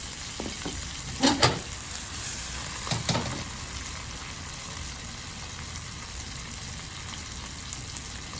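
Shallots and garlic caramelizing in a pan for sausage and cavatelli pasta, giving a soft, steady frying hiss with a couple of louder stirring clatters early on, heard close and alone.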